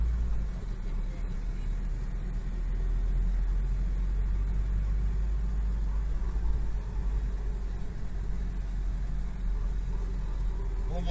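A car's engine hums in a low, steady idle close by after arriving, a constant rumble beneath quiet background noise, with faint voices now and then.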